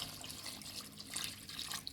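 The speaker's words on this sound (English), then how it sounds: "And I'm going to go ahead and add a little more water." Water runs steadily into a pot of simmering oxtail, a continuous soft splashing hiss that stays fairly faint and even throughout, with no voices over it.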